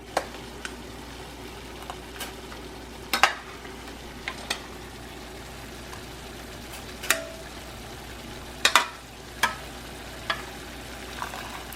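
Chickpea pasta stirred into tomatoes in a pan: a steady low sizzle of frying under scattered sharp scrapes and taps of a utensil against the pan, close and fairly quiet, with no talk.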